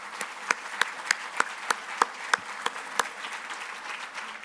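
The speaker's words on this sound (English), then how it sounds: "Let's give Ernie and Jared a big round of applause" At an annual meeting, an audience claps in a distinct, fairly regular rhythm, sharp individual claps standing out over a soft bed of broader applause that fades toward the end.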